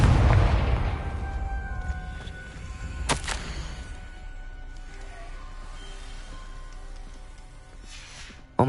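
A Confringo fire spell explodes in the Hogwarts Legacy video game, a loud low boom at the start that rumbles and decays, followed by a sharp second blast and a lingering tonal ring.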